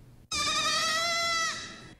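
A single loud, sustained bleat from a baby goat in a dairy and meat goat herd on a Kahuku farm. It rises sharply, holds steady, then trails off, with no other sounds around it.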